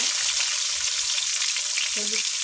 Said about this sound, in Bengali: তেলটা ছেটায় না এই যে লাল লাল করে ভেজে নিলাম